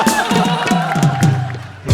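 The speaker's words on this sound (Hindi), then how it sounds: "जोरदार तालियां" A television comedy show's studio audience bursts into loud applause and cheering, a dense crowd of claps and whoops filling the short moment.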